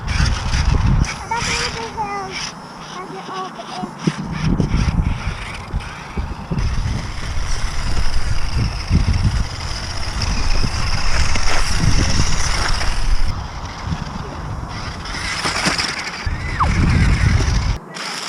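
A 1/18-scale Double E MaxTronic RC rock crawler with locked diffs drives over terrain, its small motor whining amid continuous crunching and clattering of wheels, while people talk.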